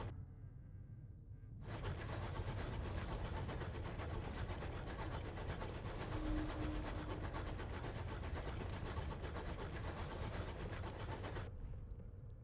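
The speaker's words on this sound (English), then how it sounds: "Choo-choo!" Steady rumbling run of a train locomotive in the Sunless Skies video game, a continuous chugging drone with a soft onset and fade at the edges, no voices.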